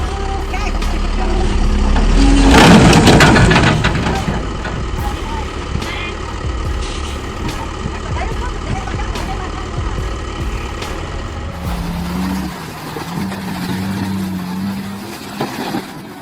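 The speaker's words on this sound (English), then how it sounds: "They drive these mega trucks, which are about 30 feet, 9 meters tall, like they're little ATVs." Enormous mining dump trucks, around nine meters tall, rumble with a loud, heavy engine roar that swells early and then settles into a steady drone, with a low mechanical hum lingering throughout.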